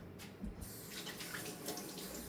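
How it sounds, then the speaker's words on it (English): Water runs steadily from a kitchen tap onto hands being washed, a soft continuous splash with small shifts in the flow, close but quiet, and no one talks. "I'm gonna wash my hands one more time"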